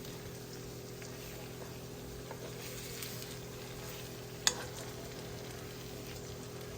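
Saba bananas fry in sugar for banana cue, making a low, even sizzle close by with one sharp tap partway through and no voices.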